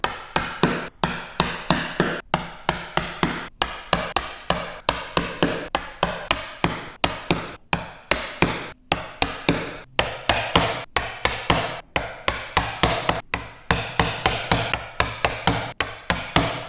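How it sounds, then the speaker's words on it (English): Sharp, regular mallet blows drive a chisel vertically into a marked line while cutting dovetail joints for a wooden book stand, close and crisp, repeating roughly every half second throughout with brief quiet gaps. "chisel into the line and hit it vertically"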